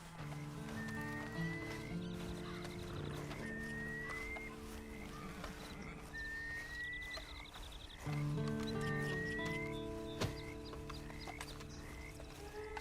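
A horse in Red Dead Redemption 2 clops and snorts over a steady bed of background music with bright chirping tones that repeat throughout.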